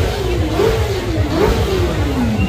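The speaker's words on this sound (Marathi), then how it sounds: "एक्झॉस्ट ऐकवत आहे" A Harley-Davidson motorcycle exhaust revs up and down on a Mumbai street, the engine note rising and falling in a couple of sweeping pulls over steady background noise.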